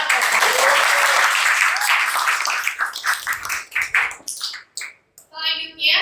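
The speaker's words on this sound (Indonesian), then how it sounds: "Oke, tepuk tangan." A class claps together, loud at first and then breaking into scattered, uneven claps that fade out, with a voice speaking briefly at the end.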